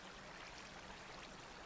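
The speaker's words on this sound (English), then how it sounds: "more water is creeping in." Water flows into an ocean whirlpool build in Minecraft, a faint, steady, even rushing hiss with no variation and no voices.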